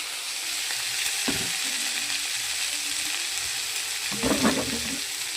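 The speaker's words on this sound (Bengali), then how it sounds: "এবার সবজিটা আমার ভাজা হয়ে গেছে" Vegetables frying in a pan for a bottle-gourd greens chorchori with lentil dumplings, a steady close sizzle with a couple of louder stirring bursts and no talk.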